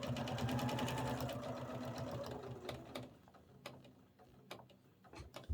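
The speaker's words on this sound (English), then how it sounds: "Needle down and sew it off at 90 degrees." A sewing machine stitches binding onto an art quilt, its fast, steady mechanical whir running for about three seconds before stopping, followed by scattered clicks and small handling taps nearby.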